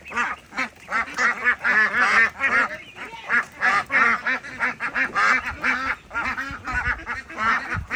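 Peking ducks quack at feeding time, a loud close flock calling in rapid, overlapping bursts of nasal quacks with only brief gaps, continuing for the whole stretch.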